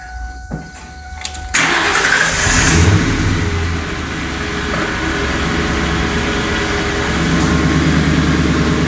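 A 2002 Ford Mustang GT engine cranks and catches, revs up briefly, then settles into a steady idle, loud and close.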